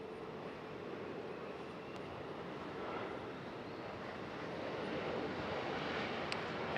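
A Frontier airliner arriving at Raleigh-Durham airport, a faint, steady distant engine rumble that grows a little louder toward the end, with no talk.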